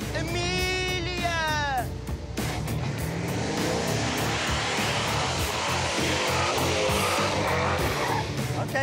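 A blue Camaro race car at a street drag race roars loudly and continuously, engine revving high with tire noise, while someone talks over it throughout.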